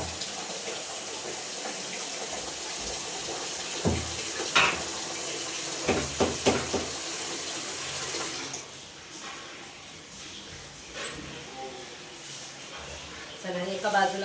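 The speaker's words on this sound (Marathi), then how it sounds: "हंडा भरून ठेवते" Drinking water running from a tap into a metal handa pot in a home kitchen, a continuous splashing flow with a few clanks of the vessel, and someone talking over it.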